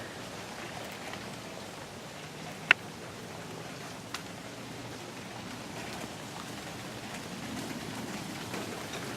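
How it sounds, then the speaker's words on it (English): Steady rain falling outdoors, a constant soft hiss of drops on surfaces with a couple of sharper single drips standing out, no voices. "it's once again raining and we are going to get more rain"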